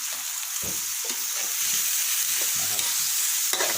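Cucumber and pork are stir-fried in a hot pan, giving a steady loud sizzle broken by repeated scraping and stirring knocks from a utensil, close up and continuous, with no speech.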